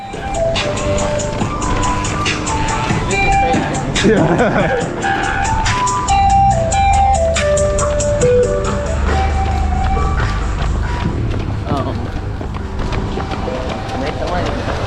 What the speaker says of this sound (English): You hear the bass line underneath a more traditional ice cream beat.